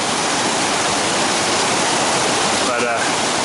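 Rushing river water at a river crossing, a loud, steady broadband roar that fills the whole clip with no breaks.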